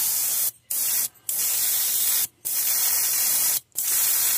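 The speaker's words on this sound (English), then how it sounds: "we're going to spray this white over that black, then that way our other colors will kind of show through" An airbrush sprays white paint onto a fishing lure in a steady, loud hiss, broken by four short pauses where the trigger is released.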